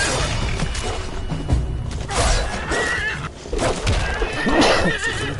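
A horse whinnies loudly amid Skyrim game sound effects, with thuds and a muffled voice underneath, followed by another neigh near the end.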